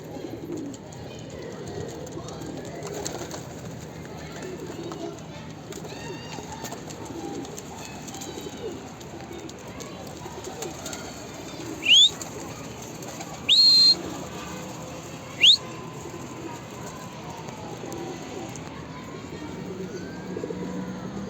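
A young runaway pigeon coos softly on a rooftop against steady outdoor background noise. A few short, sharp whistles cut in near the end.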